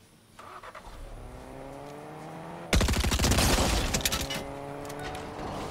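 A car engine in a shooter video game drones and revs steadily throughout. Loud bursts of gunfire break in midway, over the engine.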